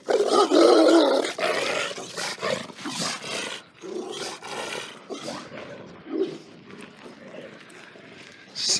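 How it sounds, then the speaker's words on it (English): A dog growls and grumbles in a low, rough voice, with a few sharper vocal bursts, close by. "Here's a little doggy."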